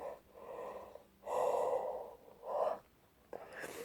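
A person yawns repeatedly up close, with soft, breathy, drawn-out swells that rise and fade in three waves, ending in a brief short breath.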